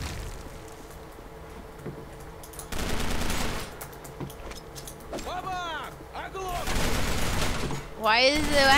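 Video-game gunfire crackles in bursts of rapid automatic shots over a steady background hum, along with scattered whooshing and whistling effects.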